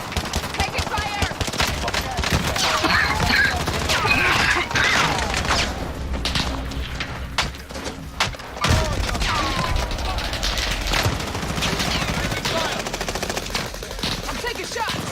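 Sustained video-game gunfire rattles on, automatic bursts and scattered shots layered under busy game noise and voices, staying loud and dense with a brief lull partway through.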